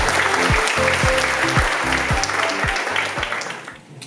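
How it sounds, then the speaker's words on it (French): Audience applause at a staged presentation, steady clapping from a crowd over a rhythmic thumping music beat, tapering off at the end. "Sous vos tonnerres d'applaudissements,"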